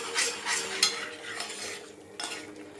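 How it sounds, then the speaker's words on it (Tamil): A spoon scrapes and stirs through homemade jam with sugar in a pan, soft repeated swishes and light metallic scrapes in an uneven rhythm, fairly quiet and close. "இது போட்டு இப்படி நல்லா கிளறி விடுங்க"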